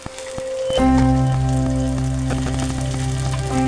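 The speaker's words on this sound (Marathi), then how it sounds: "आता आपण त्यामध्ये थोडे जिरे टाकून घेऊ आणि लगेचच आपण त्यामध्ये हिरवी मिरची टाकणार आहे।" Cumin seeds and green chillies hit hot oil in a pan with a sudden, sustained crackling sizzle under steady tonal background music.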